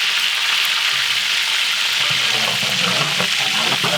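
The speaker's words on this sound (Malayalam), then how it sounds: "ഓയിൽ ഒഴിച്ചു കൊടുക്കാം. കടുക്, കുറച്ച് കറിവേപ്പില, കുറച്ച് ജീരകം" Mustard seeds, curry leaves and cumin frying in hot oil, a loud, steady hissing sizzle with faint crackles and stirring throughout, no voices.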